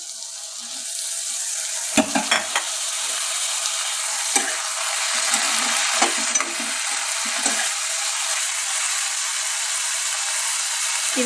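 Chopped tomatoes frying in a pan with eggplant pieces, giving a loud, steady sizzle throughout, broken by a few brief scraping and stirring clicks near the mic.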